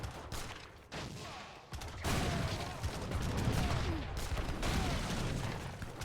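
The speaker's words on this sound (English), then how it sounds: "Mortars are doing good work here" Artillery-style mortar fire from the Age of Empires III strategy game, a dense run of booming impacts and gunfire layered over battle noise, loud and continuous, with faint speech underneath.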